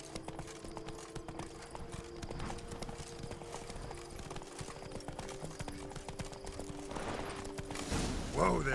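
Roach, a horse in The Witcher 3, trots along with steady rhythmic clip-clop hoofbeats, close and moderately loud, as characters talk over the ride and it slows near the end.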